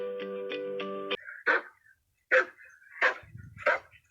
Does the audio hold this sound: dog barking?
yes